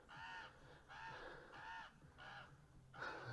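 A crow caws loudly outdoors during a workout stretch, five harsh calls in a row with short gaps between them, and no one speaking.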